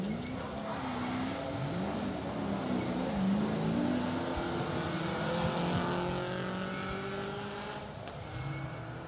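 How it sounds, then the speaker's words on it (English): A BMW Compact 3 V6 rally car, slithering around a slippery hairpin at Cadwell Park during a circuit rally stage, its engine revving and rising and falling steadily in pitch throughout, loud and fairly close with no talk. "It's the Tom Stockdale, Neil Chambers BMW Compact 3 V6 was dancing its way around that hairpin."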